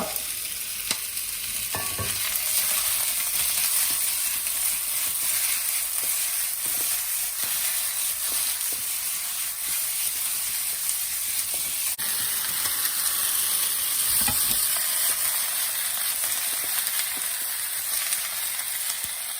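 Garlic and ginger sizzle steadily in a hot pan beside chicken, a dense, continuous frying hiss with occasional stirring scrapes, close and fairly loud, with no talking throughout.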